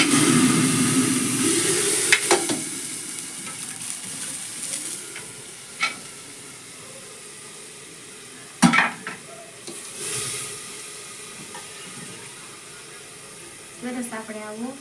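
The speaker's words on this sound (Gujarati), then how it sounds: "સરસ આપણે આવો વઘાર કરી નાખશું." Tempering of curry leaves and green chillies sizzling in hot oil for Gujarati dal, a loud close crackling hiss that gradually settles, with sharp utensil clanks and brief bursts of stirring.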